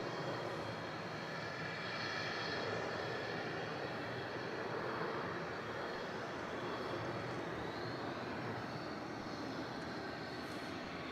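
Aircraft engines at Melbourne Airport, a steady, distant, broadband roar that holds at an even level throughout, with no distinct events standing out.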